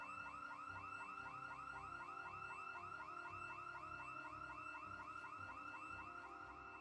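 A car alarm goes off in the Project Zomboid video game, a loud, steady electronic whooping that repeats in a fast, even cycle throughout with no pauses.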